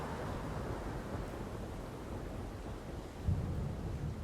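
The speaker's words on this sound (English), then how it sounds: "It's supposed to be raining, but you don't see the raindrops." Steady rain hiss with a low rumble of thunder rolling underneath, swelling briefly near the end, in a video game; no voices.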